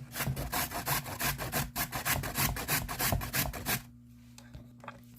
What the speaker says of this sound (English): For the carrot, I'm going to use a grater.